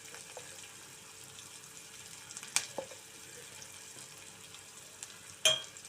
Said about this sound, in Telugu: సాల్ట్ వేద్దాం, ఉల్లిపాయలు అనేవి త్వరగా మగ్గుతాయి అన్నమాట.